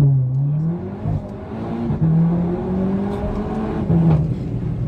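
A tuned Seat Leon Cupra 2.0 with 350 hp at Stage 1 accelerates hard with wheelspin, its engine revving and wavering loudly through gear changes in a close, continuous surge.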